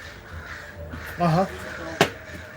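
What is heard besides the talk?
crows cawing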